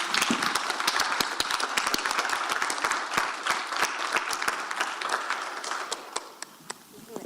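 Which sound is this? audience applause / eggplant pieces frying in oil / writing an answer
audience applause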